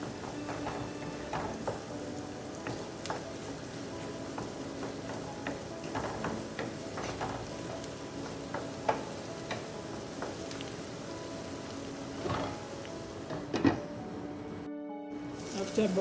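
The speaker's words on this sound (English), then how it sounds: "And then we're going to go ahead and stir in our salt." Salt being stirred into rice cooking in a pan, with a steady low sizzle and scattered light scraping clicks from the spoon, under faint background noise.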